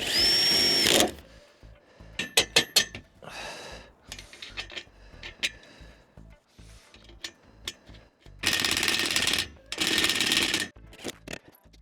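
Power drill driving screws into a mounting frame for a solar panel on a camper roof, close and loud in several bursts of whirring with short clicks and handling noises between them, and no talking.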